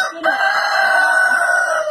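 Hens in a backyard coop near the nesting boxes, crowing and clucking loudly and continuously for two seconds, close to the microphone with no talking.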